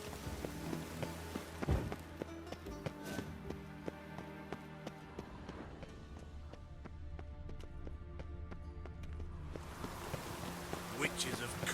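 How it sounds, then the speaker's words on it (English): Steady rain pattering and spattering throughout in the video game The Witcher 3, with scattered taps and a low tonal backdrop running underneath. "Witches have conjured rain."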